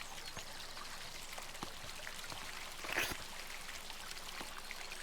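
Water trickles steadily from a garden spout in the game Botany Manor, a soft continuous pour with a slightly louder splash near the middle, close and alone.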